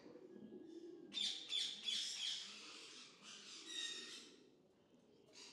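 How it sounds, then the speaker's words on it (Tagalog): A pet racing pigeon of the black stencil colour category calls nearby with a burst of bright chirps and warbling coos over a low background murmur, the calls rising and fading across several seconds. "I love this bird."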